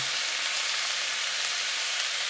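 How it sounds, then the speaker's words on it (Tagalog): Vegetables frying in a hot pan, a steady, dense sizzle that holds at an even level throughout, close and with no talk. "ipiprito natin ito"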